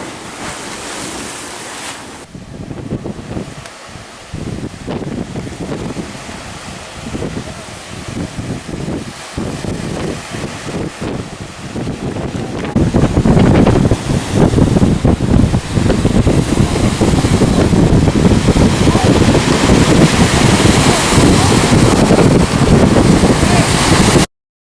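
Rough, angry surf pounds the shore in a continuous roaring wash, with heavy wind buffeting the microphone and the sea growing louder and denser partway through.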